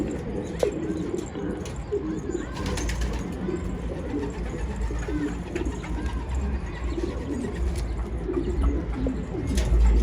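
Soft pigeon coos repeat through a steady, low background hum, with a few faint chirps scattered in; the birds sound fairly close and continuous.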